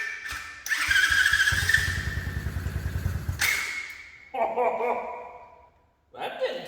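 Tao Motors DB20 pit bike engine sputtering and chugging in rapid small-engine pulses, surging briefly then dropping, with a thump and a voice heard in between.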